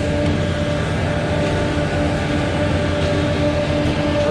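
A concrete pump running in reverse with its engine throttled down while pumping through a long line, giving a steady, loud, continuous mechanical drone and rumble with tonal hum, unbroken throughout.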